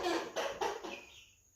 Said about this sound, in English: we're getting a few clucks from Braveheart